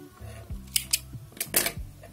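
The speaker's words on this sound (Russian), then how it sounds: "Обрезаю ниточку." Scissors snip through knitting yarn while finishing an I-cord bind-off edge, giving a couple of short, crisp clicks close by in a quiet room.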